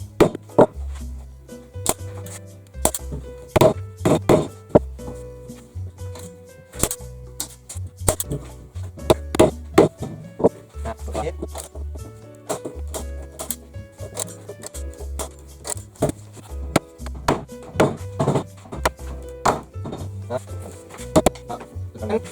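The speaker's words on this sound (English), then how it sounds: "So that's all the stapling" A staple gun fires staples through canvas stretched on a frame, giving many sharp, loud snaps in an irregular series, close up, with someone talking between the shots.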